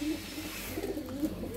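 Pigeons in a pigeon shop in İzmit, Kocaeli, cooing softly in low repeated murmurs against a faint background hum, with no voices heard.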